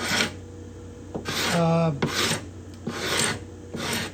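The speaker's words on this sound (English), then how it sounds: "This particular heavy scraper is good to get through that" A heavy steel scraper works the bindings and purflings on a cedar guitar top, making repeated rough rasping strokes of about half a second each, close and loud, with one higher scraping squeal partway through.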